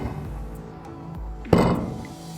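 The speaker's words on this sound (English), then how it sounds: "Put the stainless steel shell into the fixing clamps" A stainless steel UV water filter shell is set into metal fixing clamps with a single solid clank, preceded by quieter handling noises and followed by a short ringing decay.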